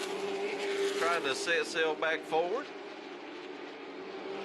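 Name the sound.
race cars passing at Hickory Motor Speedway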